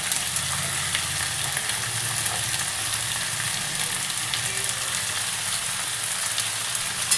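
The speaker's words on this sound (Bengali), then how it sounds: "দেখুন বন্ধুরা, একটু কড়াইশুঁটি আমি এতে দিয়ে দিচ্ছি।" Green peas tipped into a hot wok of spiced vegetables for a vegetarian potato and pumpkin curry, giving a steady, fairly quiet sizzle and crackle of frying that runs unbroken, with no voices.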